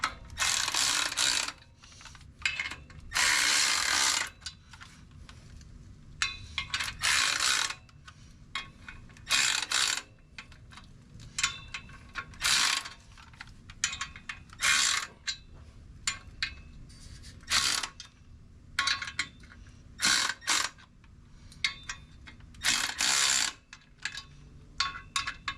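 A ratchet tightening bolts during clutch installation on a 1997 Jeep Wrangler TJ, with repeated bursts of loud, close clicking strokes separated by short pauses.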